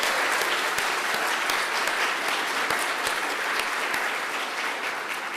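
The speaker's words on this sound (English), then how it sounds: "Let's have a round of applause." Sustained applause from an audience at the 2019 Rising Stars awards ceremony, steady, dense clapping filling the room at a constant level throughout, with no voices.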